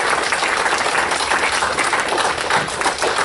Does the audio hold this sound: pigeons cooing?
no